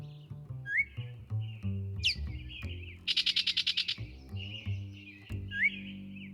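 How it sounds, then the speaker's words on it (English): Birds chirp and sing in a lively chorus of varied whistles, rising trills and sharp tweets, with one rapid stuttering burst midway, all fairly close and clear with no talking. "you can hear the birds flying overhead, signaling it's the start of a new day"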